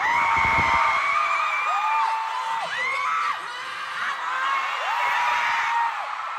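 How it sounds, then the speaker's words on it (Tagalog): A large fan crowd at a live concert-style appearance screams loudly and continuously on the host's cue, high shrill cheers and whoops rising and falling over a dense, sustained roar. "Lahat ng OA sumigaw!"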